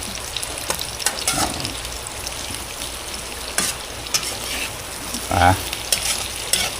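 Marinated pork steak sizzling and frying in a pan, a steady crackling hiss with occasional sharper pops and a few faint stirring sounds.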